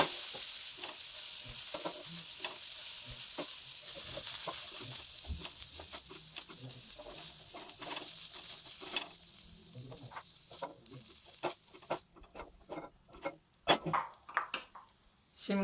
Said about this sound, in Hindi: दो मिनट फ्राई करेंगे गाजरें।